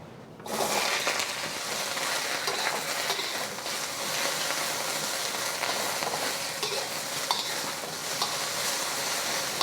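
Onion dropped into a wok with a tablespoon of cooking oil over medium heat: a sudden hiss that settles into a dense, steady frying sizzle with faint occasional clicks, close and without speech.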